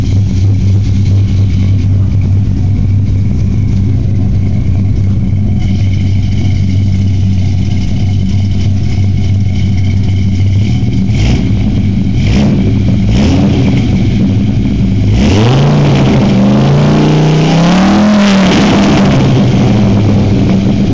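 Dodge Ram SRT-10 truck engine with a lumpy cammed idle rumbling loudly through its exhaust, then several short blips of the throttle and a long rising rev, close and alone.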